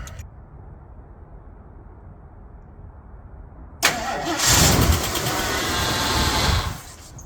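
1974 Ford Torino Elite engine starting near the middle: a sharp crank and catch, then a loud, rough run for about three seconds before it shuts off, following a quiet low background.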